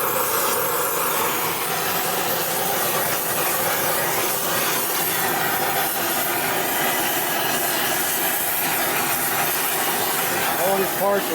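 Steady roaring hiss of a torch flame heating the rusty oil pump shaft area on a Harley panhead or knucklehead engine case, continuous and close throughout with no talk over it.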